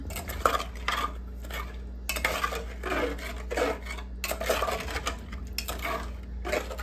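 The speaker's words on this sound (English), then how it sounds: "So we'll give that a stir and reduce it." A spoon stirs a jackfruit dish in a cooking pot, making steady scraping and clinking strokes against the metal over a constant low hum of the stove, with no talking.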